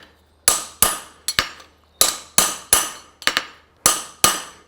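A concave fullered stamp is hammered on an anvil to punch nail holes while forging a French hind horseshoe: about a dozen sharp, ringing metal strikes, close and loud, in irregular pairs and runs with short decaying rings between.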